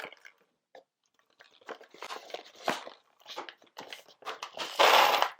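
The bean hopper is pulled from a Sage Barista Express Impress espresso machine, with close scattered plastic clicks and rattling coffee beans building to a louder shuffling crunch near the end.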